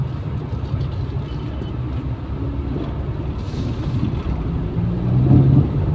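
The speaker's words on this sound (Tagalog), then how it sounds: "Nako po, sobrang traffic." Heavy road traffic on Manila streets such as EDSA and Ortigas, a continuous low engine rumble with wind buffeting that grows slightly louder toward the end, where a brief low tone sounds.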